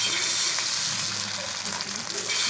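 Beaten egg, spooned into hot oil in a pan for egg toast, sizzles and fries in a loud, steady, close crackle that holds throughout without a break.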